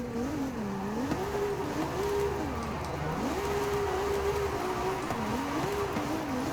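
Ferrari 296 GTB V6 engine in Forza Horizon 5 driving steadily, its loud, close engine note rising and falling through repeated smooth gear changes with no talk.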